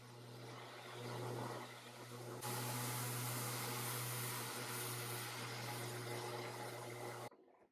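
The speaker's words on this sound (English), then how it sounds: "I finished it off with my sander and a foam pad so I wouldn't flatten the curves" An electric sander fitted with a foam pad whirs steadily against a wooden stool seat, a continuous motor drone that grows louder partway through before cutting off abruptly near the end.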